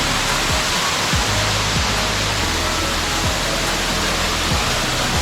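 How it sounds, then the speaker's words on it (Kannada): Kethenhalli Falls, a waterfall near Bangalore, roaring as a dense, steady broadband rush of falling water, loud and close, with occasional low thumps over the continuous wash. "This is Ketanahalli falls."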